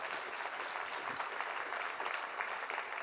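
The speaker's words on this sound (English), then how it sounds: "Go ahead and clap." A crowd applauds at a technology conference keynote, dense continuous clapping held at an even level throughout, with no voices over it.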